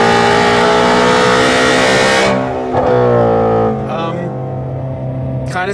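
A loud, powerful car engine revs and roars at close range, the tone rising and falling with throttle blips over several seconds.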